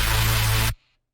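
Dry synth sound from a sample pack, a single bright sustained tone with a low bass note beneath it that holds for under a second and then cuts off abruptly, playing alone.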